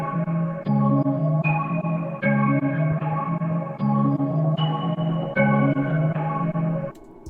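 A melodic music sample run through the RC20 plugin's distort preset: a repeating loop of gritty, saturated notes in bars of roughly one and a half seconds, loud and up front, ending abruptly.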